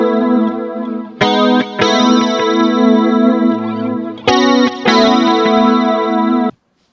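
A mono electric guitar track, duplicated and panned to center, plays loud distorted chords with chorus-like shimmer in choppy stabs and held strums, then cuts off abruptly.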